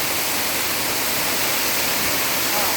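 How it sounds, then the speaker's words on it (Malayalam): Continuous broadband rush of falling water, steady and fairly loud, like a small waterfall close by. "നമ്മുടെ സ്ഥലത്തിൻ്റെ സൈഡിൽ കൂടെ തന്നെ ചെറിയൊരു വെള്ളച്ചാട്ടം ഉണ്ട്"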